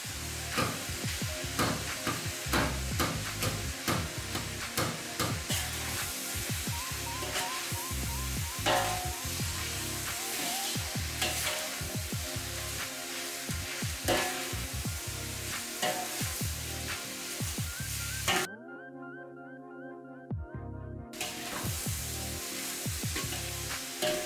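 Butter sizzles steadily in a pot with lamb meat, with frequent scraping stir strokes and a brief dip near the end, and no talking.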